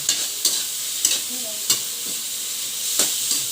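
Small pork cubes are sautéed in a pan with a steady sizzle. About half a dozen brief scraping strokes from stirring break through at intervals.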